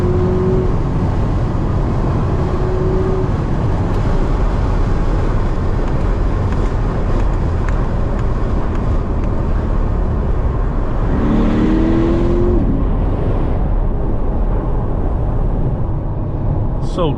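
A Chevrolet C8 Corvette accelerates in Sport+ mode, heard from inside the cabin as a loud, steady engine roar mixed with road and wind noise that stays constant for about seventeen seconds.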